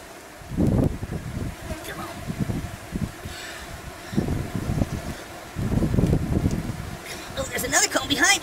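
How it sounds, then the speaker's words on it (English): Honey bees buzz around a colony being cut out of a wall, with bursts of near low-pitched buzzing and wind rustle throughout, under a person talking. "so if this one falls down, all the bees will come right into this hive"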